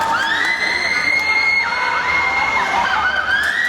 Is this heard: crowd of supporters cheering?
yes